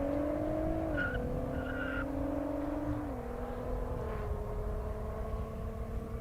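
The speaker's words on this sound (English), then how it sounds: "Oh, we got Brandon Swan, GTR." GTR car drag racing on a half-mile airstrip, with a sustained engine howl whose pitch climbs and steps down through gear shifts, heard at moderate distance above steady background noise.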